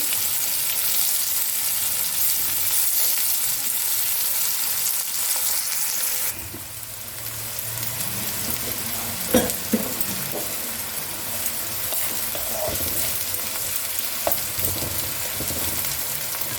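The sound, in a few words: onions frying in oil for rohu fish curry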